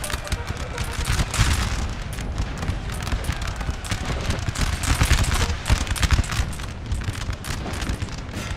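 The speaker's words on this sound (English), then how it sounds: "you're going to put a good volley into the grenadiers" Musket volley fire in the Napoleon Total War video game, a dense continuous crackle of many gunshots and booms rolling on throughout with no pause.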